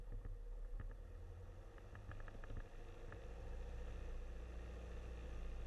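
Grumman Tiger light aircraft engine held at 1600 rpm during a pre-flight run-up, a steady loud piston drone with constant low rumble and no talk.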